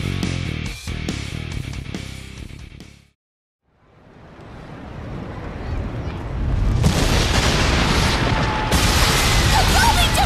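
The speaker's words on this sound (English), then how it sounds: "The building just exploded!" A building blowing up in an audio drama: after a burst of sound cuts to silence, a deep rumbling boom swells and grows into a loud, sustained roar of collapse and debris.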